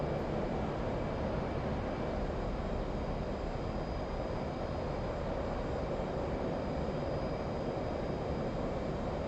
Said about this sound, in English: once you hit full throttle on the burners, it launches you